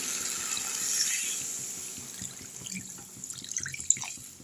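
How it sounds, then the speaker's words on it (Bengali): Water pours into a pot of Bengali potato curry (alur dum), a soft splashing and gurgling flow that fades slightly and ends with a few bubbling drips. "এবার আমি জল ঢেলে ঢাকা দিয়ে দেবো।"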